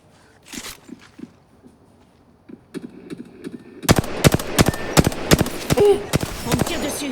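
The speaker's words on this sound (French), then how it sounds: "On me tire dessus." Gunfire in the video game Apex Legends: a few faint shots and steps, then from midway a dense run of loud, sharp bursts in rapid succession, with a voice speaking now and then underneath.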